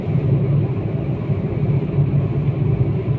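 A Renault Clio with the 1.0 SCe engine runs at full throttle during a top-speed run, giving a steady low droning rumble heard from inside the car, loud and unbroken, with no voices.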